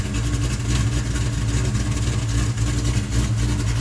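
A car engine fitted with aftermarket cams idles loud and close, its lumpy, choppy rhythm pulsing steadily with deep low rumble throughout.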